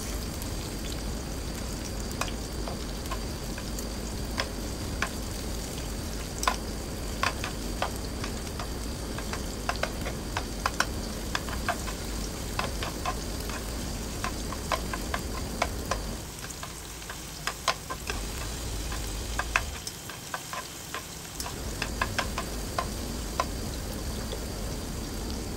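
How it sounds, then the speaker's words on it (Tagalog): Garlic and onions fry steadily in a pan, a continuous close crackling sizzle with scattered sharp pops, briefly dipping quieter near the end before resuming. "magpa-fry muna ako ng garlic and onions"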